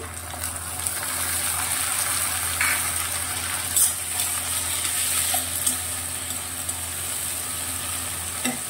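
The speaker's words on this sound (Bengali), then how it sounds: "আমার পেঁয়াজটা অলরেডি একটু লালচে হয়ে গেছে ভাজাটা। আমি এখানে প্রথমে টমেটোটা দিয়ে নিচ্ছি।" Continuous bright sizzling as tomatoes are added to reddish fried onions in a hot pan, with faint stirring scrapes and small clinks now and then, no talking.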